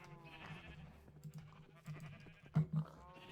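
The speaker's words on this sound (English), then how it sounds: "I have a lot of brown sheep." Sheep bleat in a farming video game, short nasal calls repeating over a busy layer of game music and effects, with a couple of louder bleats near the end.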